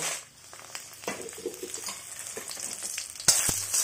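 Dried red chillies and garlic frying in hot oil in a kadai give a steady close sizzle with occasional stirring scrapes and a sharper clatter near the end, no voices.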